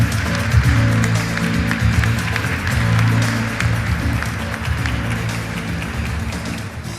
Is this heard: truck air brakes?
no